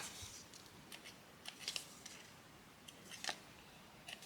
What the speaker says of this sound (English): So let's just cut these little extras off.